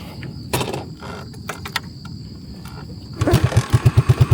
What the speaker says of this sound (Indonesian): Ush, langsung sekali starter cuy